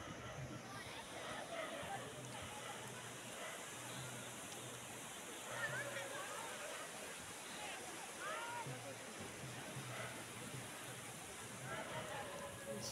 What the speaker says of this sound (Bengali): সমুদ্রের ঢেউ আসছে